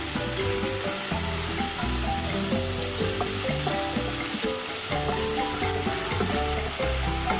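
Chopped tomato and ginger garlic paste fry with onions in a pan for Goan pulao, a loud, steady sizzle close by with occasional stirring knocks and no talking.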